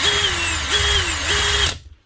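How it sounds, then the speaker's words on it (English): An electric drill with a jammed chuck whirs steadily at close range, its pitch dipping slightly a few times before it stops abruptly. "Drill works."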